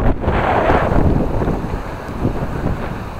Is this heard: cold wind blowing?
yes